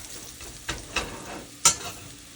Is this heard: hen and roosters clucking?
no